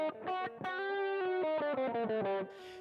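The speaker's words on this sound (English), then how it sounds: "We also heard a G harmonic minor, which sounds like this." A quick run of distorted electric guitar notes climbs and falls through a G harmonic minor scale, each note distinct, loud and upfront with no voices.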